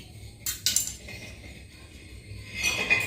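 A knife slices a potato into thick chunks on a board, giving a few brief clicking knocks in two short clusters against a quiet background, with no talking.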